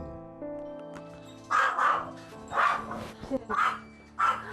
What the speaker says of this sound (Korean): 답답해서인지 종일 짖는 사랑이.